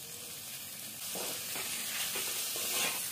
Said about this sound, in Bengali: চিকেনটা দেওয়ার পরে আমি ভালো করে একটু নেড়ে চেড়ে নেব